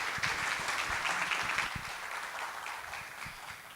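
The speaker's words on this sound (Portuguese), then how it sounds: "Salve de palmas." An audience at an investor event applauds, a dense wash of clapping from many hands that starts strong and slowly tapers, moderately distant, with a few sharper claps near the start.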